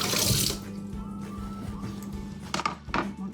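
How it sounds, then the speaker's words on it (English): Kitchen tap running as a cutting board is rinsed off while preparing a potato crust quiche, a steady close water stream with a few knocks and clunks of the board near the end, no talking. "So I will just rinse off my board."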